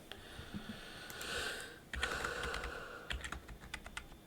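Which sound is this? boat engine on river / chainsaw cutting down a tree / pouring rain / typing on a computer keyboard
typing on a computer keyboard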